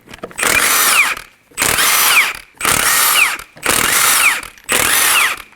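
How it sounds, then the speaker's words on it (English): A pneumatic impact wrench with a 21mm socket spins lug nuts off a Kia Optima front wheel in five loud bursts of roughly a second each, separated by short pauses, close up. "go ahead and remove the lug nuts"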